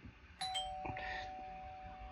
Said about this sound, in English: As you're sipping your coffee, the bell rings.